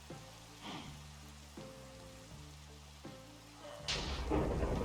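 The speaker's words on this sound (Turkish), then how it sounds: "Evet, şu yıldırım savara düşüyor." Lightning strikes a lightning rod in the Minecraft video game, with sharp crackling bursts and thunder over steady rain, alongside blocky synthetic game tones and a louder crash near the end.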